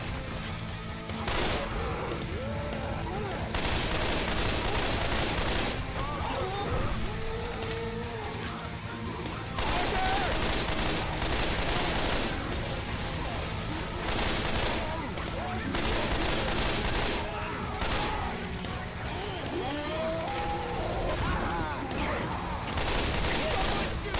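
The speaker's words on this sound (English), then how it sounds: "Shooting." Gunfire in the video game Dead Center comes in repeated bursts of rapid shots, loud and close, alternating with quieter gaps over about twenty-four seconds, with a voice speaking now and then.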